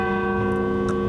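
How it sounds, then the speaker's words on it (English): Bells chime in a sustained, ringing tone with layered steady overtones, loud and close, and a couple of faint brief clicks rise over the resonance. "The bell is ringing, the chimes are ringing"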